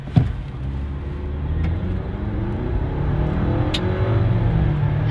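A 2024 Ford Ranger with a 2.3-liter EcoBoost turbo engine and 10-speed transmission accelerating hard toward 60 mph, heard from inside the cabin as a steady rising engine drone that builds in loudness, with a brief shift break midway.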